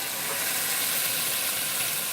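Broccoli and pork stir-frying in a hot pan, a steady close sizzle and crackle of oil that holds constant throughout with no voices.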